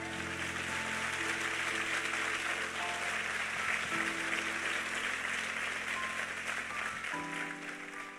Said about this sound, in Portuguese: Vamos aplaudi-lo bem forte.